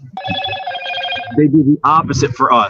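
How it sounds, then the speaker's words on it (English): A mobile phone rings with steady harmonic tones in the first second and a half, followed by people talking over it. "I think that's my phone ringing"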